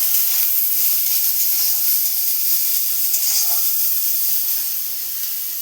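Jackfruit seeds salted and sprinkled with turmeric fry in a pan, giving off a steady, bright sizzling hiss that holds evenly at close range and eases slightly at the very end.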